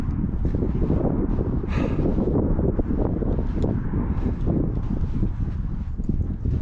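Wind roars steadily through natural sand caves, a loud, close, continuous rush buffeting the microphone, with no talking.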